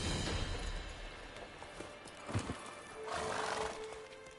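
A horse in The Witcher 3: Wild Hunt snorts and whinnies amid game ambience, with a rough breathy burst midway and a longer neigh toward the end over a steady background bed.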